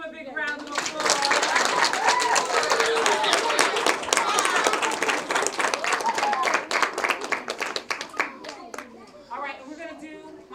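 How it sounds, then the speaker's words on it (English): A school audience claps loudly and steadily after a children's dance, with a crowd of hands sustained for several seconds before tapering off into scattered claps and voices. "Give them a big round of applause."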